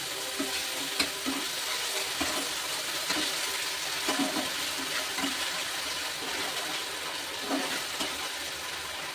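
Veg Manchurian gravy with soy sauce, green chilli sauce and tomato ketchup fries in a pan, a constant bubbling sizzle broken by repeated scraping stirs at irregular intervals, close by and with no speech.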